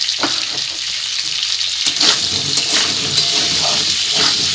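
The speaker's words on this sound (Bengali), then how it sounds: "তা আলুটা একটু ভাজা হোক লাল লাল করে" Potato sticks fry in oil in a pan with a dense, steady hiss and crackle, punctuated by light stirring clinks and scrapes at close range. No one speaks.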